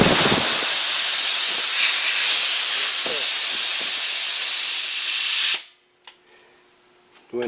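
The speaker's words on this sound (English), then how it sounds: "see if the relief valve will go off" An air dryer's relief valve vents compressed air in a loud, sustained hiss lasting several seconds, then cuts off abruptly into near silence followed by faint small clicks.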